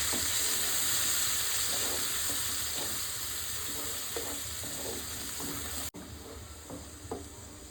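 Curry gravy of blended paste with turmeric, stirred in a hot pan, sizzles steadily as repeated scraping strokes cut through; a brief sharp break comes near the end, with no talk.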